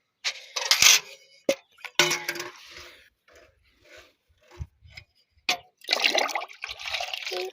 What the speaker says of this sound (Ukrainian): Виливаю десь приблизно літра на кущик.